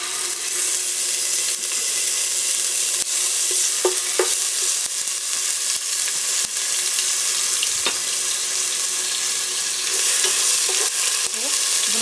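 About a teaspoon of ginger and garlic sizzles in hot oil, a steady bright hiss close to the pan with a few small clicks and stirs breaking through.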